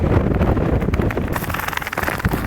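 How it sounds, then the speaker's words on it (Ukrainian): Strong wind buffets the microphone in a constant, loud roar with rumbling gusts during a dust storm on farm fields. No voices. "Вітер скажений, не знаю, як запише"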